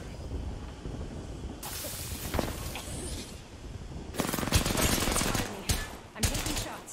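Rapid automatic gunfire bursts from the shooter game Apex Legends crackle in several loud, close volleys separated by brief pauses, with faint voices in the background.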